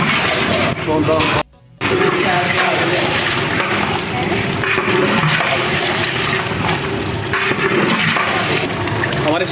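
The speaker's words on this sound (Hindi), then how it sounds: "अब हम इसमें पानी डालने लगे हैं।" Water gushes into a large pot of yogurt-marinated chicken for pulao, a loud continuous rushing pour with a brief break, while someone talks over it.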